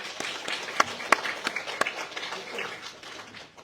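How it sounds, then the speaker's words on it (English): A pageant audience gives another round of applause for a contestant at the Miss Samoa interviews, a sparse scattering of individual claps with a few sharp louder ones, fading out toward the end. "Please, another round of applause."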